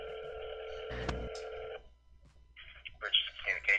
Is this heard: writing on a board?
no